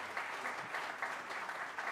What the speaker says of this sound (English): Give me these amazing musicians a big round of applause.